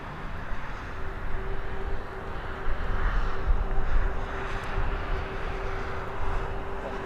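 EasyJet airliner approaching Birmingham Airport, a steady low jet rumble with a faint whine, gradually building and slightly fading, buffeted by wind noise.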